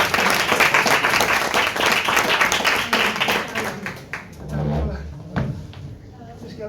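Audience at a health conference applauds a guest named Antonio, loud dense clapping that thins out and fades after a few seconds into scattered claps and room noise, with voices talking toward the end.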